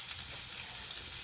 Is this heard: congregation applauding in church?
no